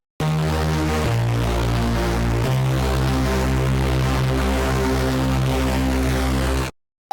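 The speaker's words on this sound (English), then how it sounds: "or even some distortion when you need extra edge" A Runo SATURN V software synthesizer plays loud sustained chords through a distortion effect, a dense gritty buzzing wall that shifts pitch twice before cutting off cleanly near the end.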